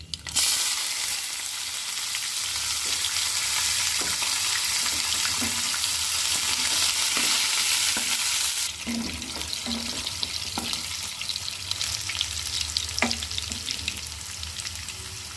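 Onions fry in a hot pan with cumin and mustard seeds, giving a loud, steady sizzle with crackling, and occasional stirring scrapes and taps. The sizzle drops slightly partway through as the pan settles.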